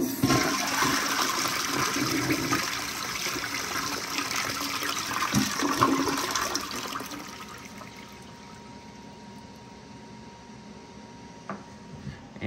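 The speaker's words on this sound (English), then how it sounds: "no water in the bowl, so we'll do a dry flush here." A Jacob Delafon Fleur toilet flushed dry with no water in the bowl gives a loud, steady rushing surge lasting several seconds, then fades to a quieter trickle and refill hiss.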